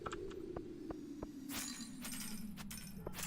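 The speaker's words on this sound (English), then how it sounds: "it sounds so satisfying to cut down all of the rock, the glass shard type things" In Stardew Valley, a rock holding glass shards is struck and breaks with a crisp, tinkling shatter, followed by a few more bright breaking hits among quiet game clicks.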